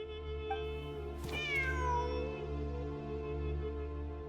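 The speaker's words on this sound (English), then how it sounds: "Wait, there it is! The cat!" A cat in the Genshin Impact video game gives a single clear, rising-then-falling meow over a steady low in-game ambient hum, with faint tones before and after.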